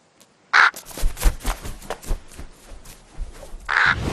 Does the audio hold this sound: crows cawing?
yes